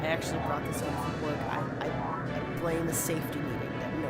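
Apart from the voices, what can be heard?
No everyday noises stand out.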